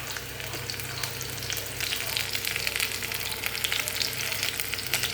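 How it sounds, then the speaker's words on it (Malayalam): Coconut oil fries in a ladle on a stove, giving a loud, continuous close sizzle with fine crackling that holds steady throughout. "വറക്കാൻ കരണ്ടി അടുപ്പത്ത് വെച്ച് ചക്കക്കുരുങ്ങത്തിനെല്ലാം നന്നായിട്ട് വെളിച്ചെണ്ണ തന്നെ വറക്കണം"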